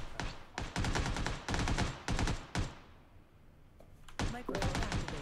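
Video game gunfire in bursts of rapid automatic shots, loud and close, broken by short pauses, with a brief quieter gap in the middle.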